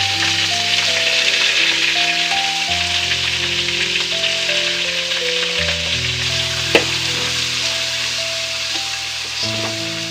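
Tomato, coriander, mint, green chillies and curry leaves sautéing in a pan for Muslim-style dalcha, a dense close sizzle with occasional stirring scrapes and one sharp clink.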